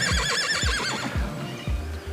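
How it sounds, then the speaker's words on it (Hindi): A horse on a snowy mountain hiking trail in Arang Kel, Kashmir, gives a loud, close whinny with a quavering, wavering pitch, while low thuds and hoof-like knocks recur at a steady pace beneath it. "कैसा ज़बरदस्त जानदार घोड़ा है।"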